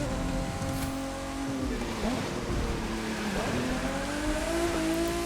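TVR Sagaris in The Crew 2, driven on a race build with traction control off: a continuous engine drone under a broad rushing noise, its pitch sagging and rising as the car slides.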